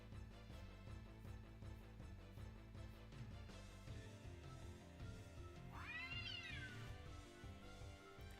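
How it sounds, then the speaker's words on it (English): A single rising meow from a cat in the game Final Fantasy IX, heard briefly over continuous background music. "That cat again."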